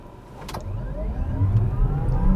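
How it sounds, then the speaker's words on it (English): A 2022 Kia EV6 electric car accelerates hard from a stop, its motor whine and road rumble building steadily and growing louder, heard from inside without talk. "one more acceleration run"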